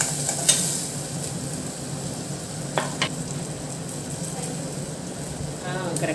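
Chopped onions and slit green chillies sauté in hot oil for an anchovy curry, hissing in a continuous sizzle, with occasional sharp clicks of a spoon stirring the pan.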